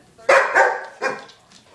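A dog barks two or three sharp times close by, each bark ringing briefly, with quiet room sound between.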